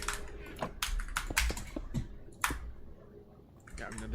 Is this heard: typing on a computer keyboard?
yes